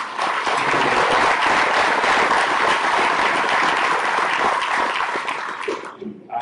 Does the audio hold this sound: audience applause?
yes